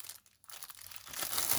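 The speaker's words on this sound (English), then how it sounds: "Sorry for this rustling." Plastic or paper crinkles and crumples close by as paint pouring items are handled, quiet at first and then swelling into a louder, denser rustle toward the end.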